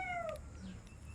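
A single short, faint meow from a cat, falling in pitch, over a low background hum.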